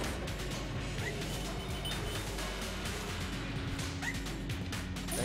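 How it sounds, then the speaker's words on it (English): A dog barks a few times in the video game Enter the Gungeon, mixed into a dense, steady bed of game music and effects. "Dog."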